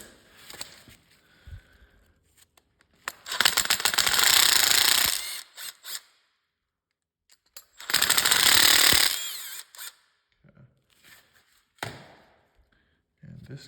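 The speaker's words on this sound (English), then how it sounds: "Next thing we're gonna do is we're gonna pull these screws out right here." Screws are driven out of a Tecumseh snowblower carburetor with a power tool, two loud bursts of whirring a couple of seconds each, separated by quiet handling clatter and short taps.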